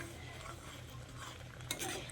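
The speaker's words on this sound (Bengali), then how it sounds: "কাজু পোস্তটা দিয়ে আবারও ঝিঙের সঙ্গে ভালো করে নেড়েচেড়ে মিশিয়ে নিচ্ছি।" Ridge gourd being stirred in a pan with a paste of ground fennel, cashew and poppy seeds, a quiet continuous scraping and mixing with a brief utensil knock near the end.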